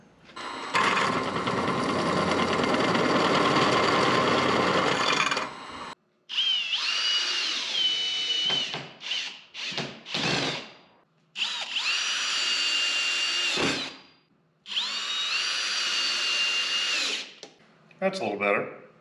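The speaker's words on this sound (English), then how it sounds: "I'm gonna drill through one wall with a bigger bit." A power drill whines in several bursts biting through a metal tube with a larger bit, with a long opening run and shorter pulses after brief pauses, close and loud.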